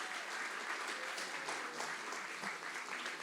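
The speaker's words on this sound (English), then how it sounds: "give a round of applause for what we just watched" Gala audience applauding at a Roaring Twenties themed charity evening, a dense, steady wash of clapping from a large crowd that holds evenly for a few seconds.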